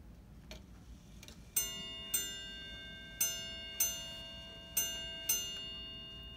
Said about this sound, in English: there's an actual hammer striking on metal, it's a bit louder on the mechanical clock